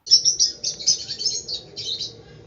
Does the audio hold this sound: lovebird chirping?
yes